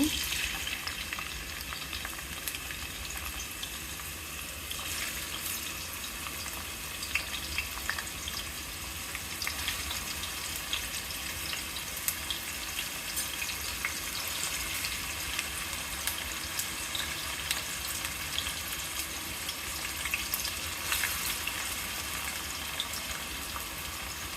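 Onions fry steadily in hot oil with tempering spices for a fish curry, a dense continuous sizzle with occasional stirring scrapes throughout, close and fairly loud with no talking.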